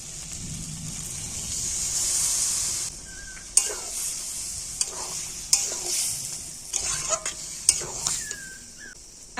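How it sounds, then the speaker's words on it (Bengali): Ginger and salt are sautéed in a pan: a hot, hissing sizzle broken by repeated spatula scrapes and metallic clinks against the pan. "তো আদা লবণ দিয়ে আবার একটুখানি কষিয়ে নিচ্ছি"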